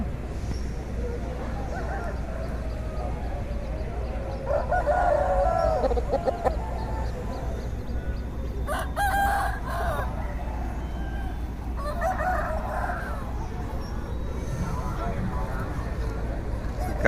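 Native chickens cluck and a rooster crows in bursts over a busy, noisy poultry market background with people talking nearby.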